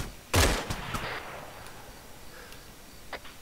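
One sharp, loud gunshot rings out in an Arma 3 military game, followed by a few fainter distant shots and scattered cracks over a quiet background.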